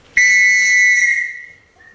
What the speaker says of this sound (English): They heard the whistles going, and Bobby Pollock and his friends got out o